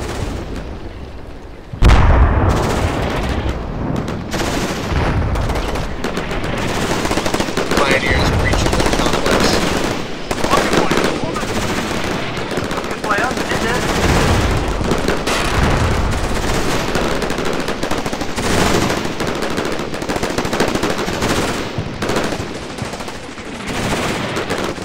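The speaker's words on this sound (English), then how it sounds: "There's numerous contacts firing upon my forces from all directions." Sustained gunfire in Combat Mission Shock Force, a NATO urban battle with machine guns and rifles firing from many directions, dense and continuous bursts punctuated by heavy booms and distant explosions throughout.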